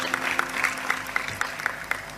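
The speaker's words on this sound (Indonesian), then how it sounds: "tepuk tangan untuk Kurniawan." Audience applause for a performer named Kurniawan, heard as a brief, moderately distant patter of hands with a steady crackling texture and a few sharper claps standing out.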